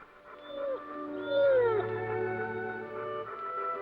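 A police dog named Wolf gives a long, wavering howl of rising and falling tones, moderately loud and close, with no talking.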